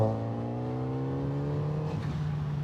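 A 2026 Kawasaki Z900RS motorcycle pulls hard in fourth gear, its engine note climbing smoothly in a rising droning whine, then easing off as the tone breaks into rougher rumble near the end.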